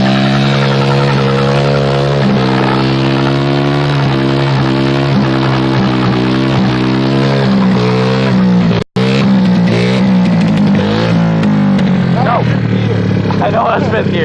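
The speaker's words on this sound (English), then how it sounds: "5th gear burnout." A four-wheeler does a fifth-gear burnout, its engine screaming loud and near with rising and falling revs held for many seconds, and one short dropout partway through.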